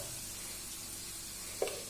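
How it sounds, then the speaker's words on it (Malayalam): Chili powder frying in hot oil with garlic and curry leaves gives a steady, close sizzle with one brief clink of a utensil near the end. "ആദ്യം അത് മൊരിഞ്ഞതിലേക്ക് കുറച്ച് മുളക് പൊടിയിടുക"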